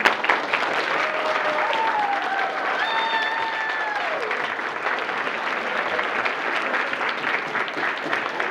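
An audience at a youth theatre performance of Mystery at Shady Acres applauds the standing parents, a dense steady round of clapping from a large crowd that holds evenly throughout, with a faint tonal whistle-like sound over it early on.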